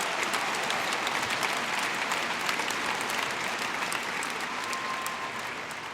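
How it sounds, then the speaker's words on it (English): A large crowd applauding graduates at the Palo Verde High School graduation ceremony: continuous, dense clapping that stays strong, then tapers slightly toward the end. "Let's give them a round of applause."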